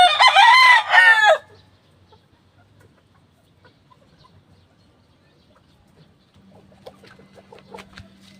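A rooster crows loudly at the start, a rising then falling call lasting about a second, followed by quiet and faint clucking and farmyard noise.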